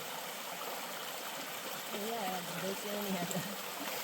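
A brook along the Appalachian Trail near Marion rushes in a steady, moderate wash while a dog drinks from it, and a voice speaks briefly over the flowing water.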